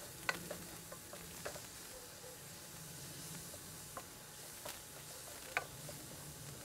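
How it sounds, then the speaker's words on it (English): Onions and garlic sizzle steadily in a hot pan, a soft continuous crackle broken by a few sharp clinks and stirring taps. "That nice sizzling sound."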